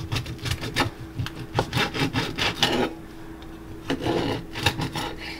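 A knife saws through a crispy grilled Cuban sandwich on Tampa-style bread, producing a run of quick, close, rasping strokes with a crunchy scrape and a brief pause partway through.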